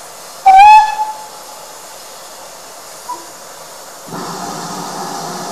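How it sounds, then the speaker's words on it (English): A short, loud steam locomotive whistle blast fades out, and a few seconds later a steady, nearby hiss of escaping steam starts up and continues, at the East Somerset Railway. "enjoying this wonderful scenery and the sound of steam"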